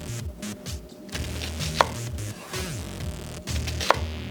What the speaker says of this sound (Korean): 양파를 썰어주는데요